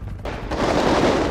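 Gunfire in the video game GTA 5 comes as a dense, crackling volley of rapid shots, sharp and noisy, building over a second or so without talk.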